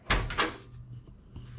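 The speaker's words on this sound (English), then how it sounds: "Seal is installed, and the door closes flawlessly without a hiccup." A vehicle door fitted with a newly installed rubber seal swings shut with a solid double thump, followed by a softer settling knock, close and clean with no voices.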